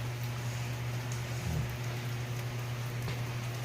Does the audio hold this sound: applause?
no